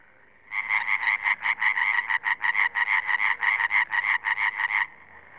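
Tree frogs call in a fast, regular series of about two dozen rasping croaks, loud and close, running for several seconds before stopping, with no voices.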